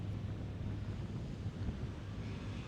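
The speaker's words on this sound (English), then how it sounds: "very windy today" Steady, loud wind buffeting the microphone at Inskip Point beach, a continuous low roar with no voices.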